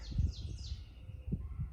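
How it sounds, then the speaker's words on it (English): Birds of various species sing in a forest, with thin high chirps and sweeping whistles over a low rumbling background, moderately close and without talk. "very sweet and melodious sound of birds of various species."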